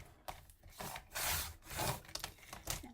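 Paper for a craft page is trimmed with a cutter in short rasping strokes, several quiet scraping passes close by with brief pauses between them.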